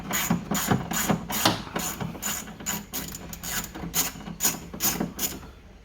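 A ratchet loosens the 8mm bolts on the side bag of a 1988 Honda Goldwing GL1500, in rapid repeated clicking strokes up close, steady and loud with no talking.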